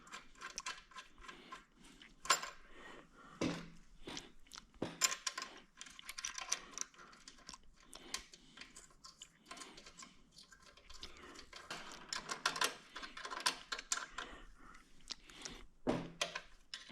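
Metal bolts for a 1968 Ford C6 automatic transmission rebuild clink and rattle as they are handled, with scattered sharp ticks and taps at close range and no talk.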